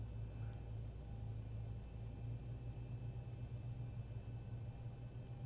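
A Boeing 737-800NG jet engine spools up during start in the X-Plane 11 flight simulator, giving a steady low rumbling drone with a faint whine above it that holds even and continuous throughout, with no talking.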